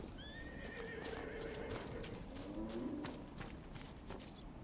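A video game horse whinnies over a noisy outdoor background with hoofbeats clopping and a lowing cow-like call, all fairly faint and distant.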